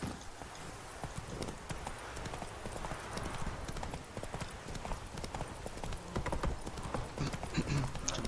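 Horse hooves clip-clop steadily and fairly close while riding in The Witcher 3 video game, a dense rhythmic patter of footfalls running the whole time with a faint whinny near the end.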